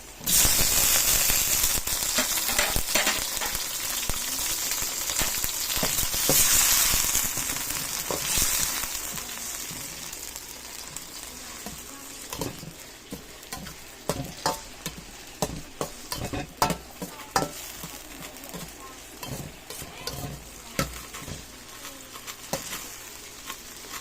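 Chopped tomatoes are stirred into a hot pan for ginataang pakbet with sardines. A loud, dense sizzle opens the clip, then settles into quieter frying broken by irregular scraping and clacking strokes of the spoon, with no one talking.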